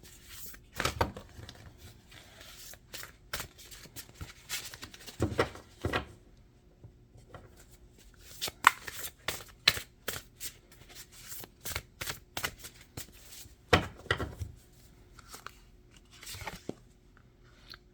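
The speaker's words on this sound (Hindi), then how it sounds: "अब मैं एक लास्ट कार्ड निकालूंगी।" Tarot cards shuffled and handled by hand, with quick papery riffles and soft flicks in irregular bursts across the stretch, close and fairly quiet, with no talking.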